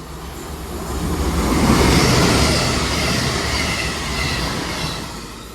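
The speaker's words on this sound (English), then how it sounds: "221134 going from Bristol Temple Meads to Manchester Piccadilly" A Class 221 diesel train running from Bristol Temple Meads to Manchester Piccadilly rushes past at Poynton, loud and close, its roar swelling and easing with rail clatter and a faint wheel squeal.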